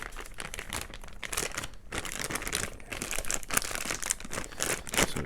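Packaging around a switch is slit and pulled open, giving continuous crinkling and crumpling of plastic or paper with scattered sharp rustles, close and fairly loud throughout with no talking.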